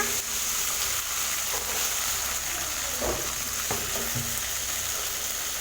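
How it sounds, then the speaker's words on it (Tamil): Crushed turkey berries frying in hot sesame oil, giving a continuous bright sizzle with a few spoon stirs and scrapes in the pan. "எண்ணெய் காய்ஞ்சதுமே நம்ம தட்டி வச்சுருக்கிற சுண்டைக்காயை இதில் சேர்த்திருங்க"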